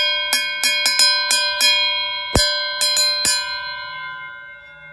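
An Irwin 254 mm circular saw blade struck repeatedly with light taps, each hit ringing out like a bell with a bright, sustained metallic tone that hangs and slowly fades, about ten strikes in an uneven rhythm.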